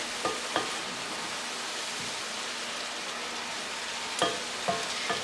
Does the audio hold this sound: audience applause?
no